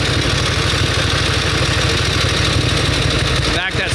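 A vintage motorcycle engine idles close by with a loud, steady, even chug that barely varies, and a brief sweeping dip in the sound comes near the end.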